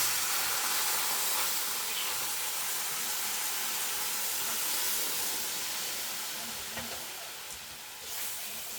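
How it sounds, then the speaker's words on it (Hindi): Milk poured into hot cooked maida flour for a white sauce sets off a loud, continuous broadband hiss and sizzle that stays steady, then eases slightly near the end, close and without speech. "अब मैं इसमें डालूंगी दूध।"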